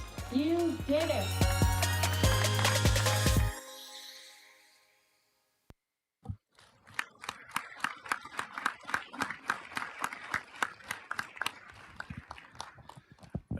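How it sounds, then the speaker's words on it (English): Audience applause at a city council meeting, a dense burst of many hands clapping that follows a loud musical stretch and a short pause, continuing steadily at moderate volume. "Give yourselves a round of applause."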